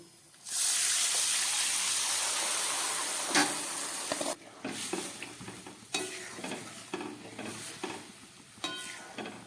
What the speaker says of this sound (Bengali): এবার আমি এর মধ্যে সিদ্ধ করে রাখা মুগ ডালটা দিয়ে দেবো।